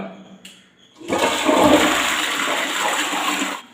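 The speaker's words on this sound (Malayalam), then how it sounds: "ഒന്ന് ഫ്രഷ് ചെയ്ത് കൊടുത്തു കഴിഞ്ഞാൽ" A household toilet flushes after a cleaning mix has been poured into the bowl: a short click, then a loud, close rush of water that churns steadily before cutting off.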